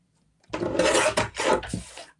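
Paper card stock being trimmed for a nested multi-layer 5x7 card, a close, rasping cut in two or three strokes lasting under two seconds, with no talking.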